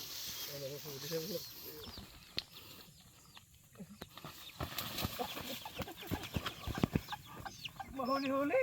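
Chickens cluck in short bursts near the start and again near the end, under people talking outdoors, with scattered rustling and knocks in between.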